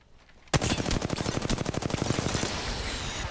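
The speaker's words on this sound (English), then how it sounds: "Other team's shooting at him." A fast automatic weapon in the Apex Legends video game opens up suddenly and keeps firing in a steady rapid rhythm for a few seconds, loud and close, with no talk over it.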